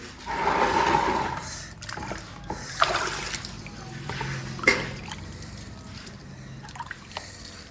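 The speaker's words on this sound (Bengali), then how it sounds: "এই গাছে জল দিচ্ছে" Water soaked with mustard cake is poured onto a garden plant, giving soft splashes and trickling drips at close range, irregular and fairly quiet against the background.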